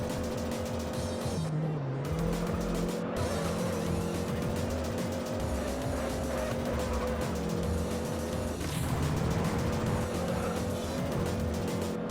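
A racing car in the Juiced video game runs under nitrous boost, its engine a loud, sustained drone that shifts pitch a couple of times, with tyre noise layered underneath.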